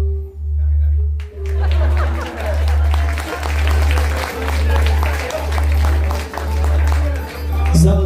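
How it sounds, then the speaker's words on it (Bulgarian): Wedding guests applaud in a steady, dense clatter of many hands that lasts throughout, mixed with crowd noise over a loud, regularly pulsing low hum. "Аплодисменти!"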